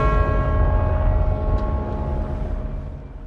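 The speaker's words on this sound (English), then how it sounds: "In London, the bells of St. Paul's rang out" Church bells of St Paul's Cathedral in London ring out as a sustained, resonant hum of overlapping tones, steady and fairly loud with no voices.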